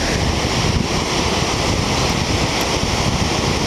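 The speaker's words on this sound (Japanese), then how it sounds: "波ですね。" Ocean waves breaking on the beach at Sendai Port, Japan, heard as a continuous loud surf wash with buffeting wind on the microphone and no voices.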